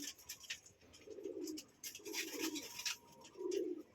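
Pigeons in a loft coo in soft, low, rolling phrases, three or four close calls with quiet rustling and faint chirps between them.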